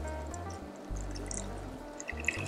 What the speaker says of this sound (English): Now I'm going to pour in our beef stock